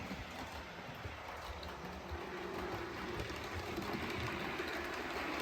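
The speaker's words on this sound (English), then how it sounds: "this is the Class 20 heading into that big train fiddle yard" A model railway Class 20 locomotive runs along the layout toward a large fiddle yard, a faint, steady rolling rumble and hiss that stays even throughout.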